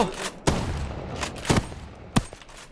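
Shots fired at a boss in the game OutlawZ: three sharp, separate gunshots about a second apart over a dense, continuous background of battle noise.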